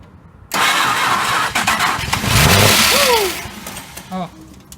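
A 1968 Chrysler 300 with a 440 TNT V8 cranks and fires up, bursting into a loud rumbling rev that swells and then settles, heard up close in a garage, followed by people talking.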